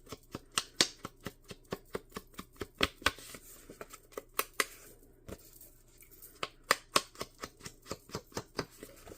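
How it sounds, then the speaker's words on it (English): Scissors cutting paper for a handmade Christmas list envelope booklet, a long run of crisp, close snips in a quick irregular rhythm with a brief pause midway. "we'll just go ahead and continue on cutting all the paper first"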